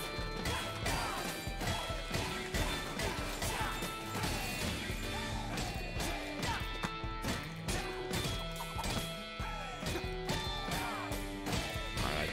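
A vending machine being smashed repeatedly in the Hi-Fi Rush video game, rapid loud crashing hits over a busy rhythmic music backing, continuous throughout.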